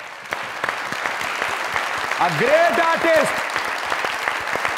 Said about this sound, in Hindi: जोरदार तालियों में